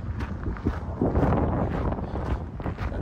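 Gusty breeze buffets the microphone in steady low rumbling bursts on a warm July morning walk along the Utah and Salt Lake Canal, with no one talking.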